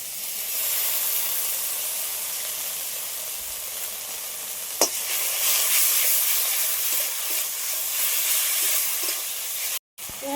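Ginger garlic paste sizzles hard in a pan with onion and tomato, a dense, steady hiss that runs throughout, with one sharp clink near the middle and a brief dropout near the end.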